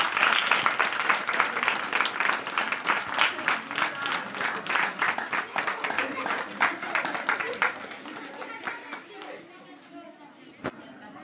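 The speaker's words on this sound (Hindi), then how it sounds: "जोरदार तालियां।" A crowd at a free village yoga camp bursts into loud, sustained clapping that gradually thins out and fades, with some voices chattering faintly underneath.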